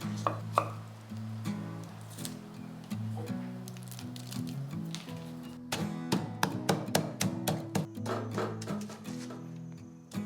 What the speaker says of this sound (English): we will just have to smash the black pepper, coriander root, and garlic together.